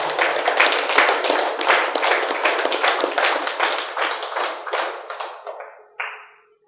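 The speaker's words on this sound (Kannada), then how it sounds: "ಒಂದು ಜೋರಾದ ಚಪ್ಪಾಳೆ" An audience at a Bangalore meditation gathering bursts into loud, steady applause lasting several seconds, dense overlapping claps that thin out and stop near the end.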